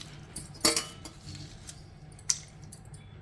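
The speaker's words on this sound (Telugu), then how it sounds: "ఇప్పుడు మిక్సీ జార్ తీసుకొని ఇవి ఇందులో వేసేసుకుందాము." Roasted ingredients tipped into a steel mixer jar in a home kitchen, giving a few quiet metallic clinks and scrapes, with one sharper clatter early and another near the end.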